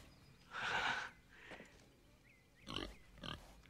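A pig grunts and snorts in a few short bursts, fairly faint and close, with quiet pauses between the sounds.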